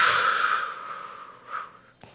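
Deep breathing during a Pilates exercise, a long audible exhale through the mouth followed by a softer breath and a faint click, close and quiet, with no talking.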